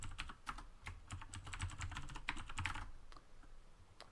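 A username is typed on a computer keyboard in quick bursts of close, crisp key clicks with brief pauses between, and no one speaks.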